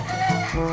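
Gamefowl chickens in a bird-keeping area cluck and call in a short, close burst, their calls rising and falling over a slightly noisy background, with no talking.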